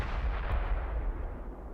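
A tank's main gun booming in a video game battle, a single heavy report decaying into a low rumble, close and fairly loud with no voices.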